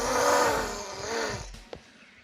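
A voice imitates a car engine with a buzzing, drawn-out vroom that wavers in pitch, then cuts off abruptly, loud and close.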